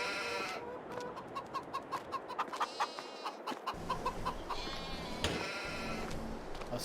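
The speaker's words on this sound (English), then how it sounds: "We have 3 roosters, if I'm remembering right. And then 180 chickens." A flock of chickens and roosters in a Farming Simulator 22 poultry facility clucks in a steady, rhythmic chorus, many birds overlapping at moderate loudness with no talking.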